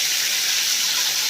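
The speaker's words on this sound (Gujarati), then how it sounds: "1 ગ્લાસ ભરીને, મોટો ગ્લાસ ભરીને પાણી નાખીશું।" A large glass of water is poured into a cooking pan of onions, garlic, chilies and mustard seeds for Gujarati kadhi. It comes through as a steady, close rushing gush with no pause.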